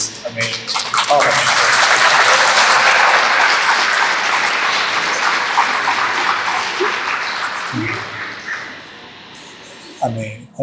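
Wedding guests at a church ceremony break into loud, dense applause that swells quickly, holds, then thins and fades, with a few scattered voices and shuffles near the end.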